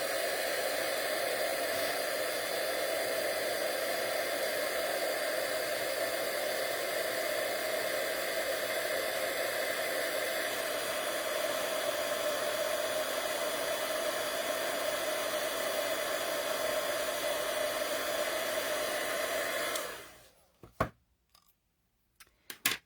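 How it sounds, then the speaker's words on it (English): A heat tool used for card making blows with a steady, loud broadband whoosh for about twenty seconds, then cuts off abruptly, leaving a few faint clicks and handling knocks. "you're going to hear the noise of my heat tool for just a minute"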